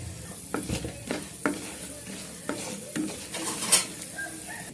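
Chana dal and urad dal sizzling in tempering oil with peanuts, a steady crackling sizzle broken by several spoon scrapes and taps against the pan at irregular intervals, close up with no talk.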